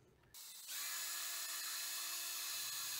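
A power drill bores a hole through the bottom of metal band saw tubing for a cable gland, a steady high whine that starts abruptly and runs loud and close to the end.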